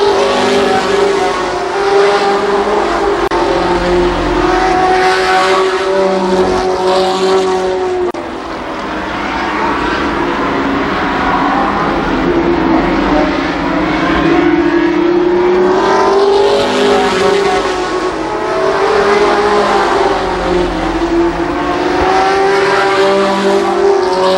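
Race cars at Columbus Motor Speedway roar past in a continuous loud engine drone completing a lap, pitch rising and falling as the pack passes, with no talk over it.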